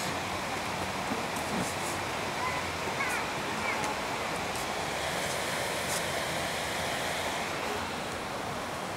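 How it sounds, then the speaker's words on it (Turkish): A waterfall near the small town of Bozkır in the Turkish mountains rushes with a steady, dense roar that holds level throughout, broad and continuous with no breaks. "Solda şelale var."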